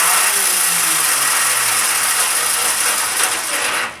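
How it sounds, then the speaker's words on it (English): Honda CB175 motorcycle engine with a faulty starter clutch, a loud continuous mechanical whirring and grinding that holds steady for about four seconds, a falling low whine underneath, then cuts off. "this is what the issue looks like when your starter clutch is not working"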